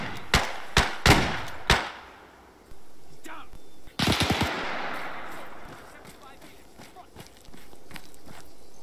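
Bursts of rifle and automatic gunfire in the ARMA 3 military shooter during a commando raid in Greece, several sharp close shots in quick succession followed by a louder volley, with softer movement noise between.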